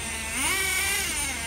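A Thunder Tiger TS4n nitro RC car engine running close by, a loud continuous buzzing whine that rises briefly in pitch and then settles.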